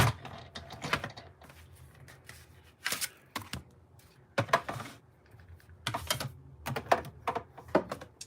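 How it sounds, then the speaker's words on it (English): A large embossing folder cranked through a big die-cutting machine, heard as a run of close, irregular clicking and clattering bursts with short pauses between them. "since this is such a big embossing folder, I have to use my big machine"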